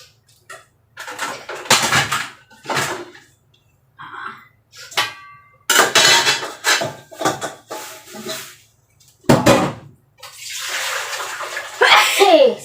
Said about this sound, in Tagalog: So, isalin natin itong tubig na to.